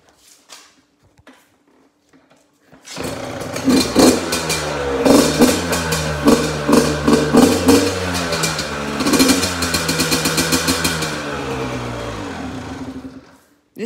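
A YZ dirt bike engine bursts to life after a few quiet seconds, then revs hard and loud up close, its pitch rising and falling through repeated throttle blips with a raspy, popping edge.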